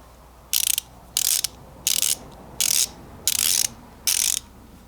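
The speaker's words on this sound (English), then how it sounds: "This is the P90 SK ratchet" SK P90 and Tekton ratchet wrenches click in six quick bursts of fine, rapid ratcheting, each burst under a second and separated by short pauses, heard close and alone.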